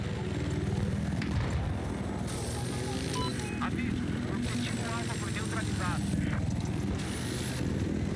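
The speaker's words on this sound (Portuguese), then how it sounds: "Vou roubar esse helicóptero aqui." Helicopter in the video game Battlefield 4, a steady rotor drone with gunfire and explosions around it and people talking over the top.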